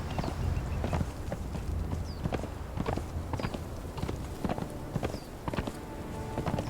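Horse hooves clop steadily at a walking pace in the game Conan Exiles, close and regular over outdoor ambience.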